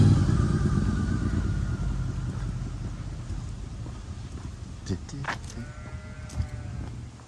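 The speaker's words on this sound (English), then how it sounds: "I think there's some sheep, from what I remember, because I can hear them" Several short sheep bleats ring out in the distance at the Guernsey reservoir over steady low background rumble and faint voices, with a couple of louder calls near the end.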